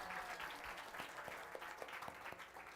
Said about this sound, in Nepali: सबैजनालाई एकसाथ हामी जोरदार तालीको साथ स्वागत गर्नेछौँ।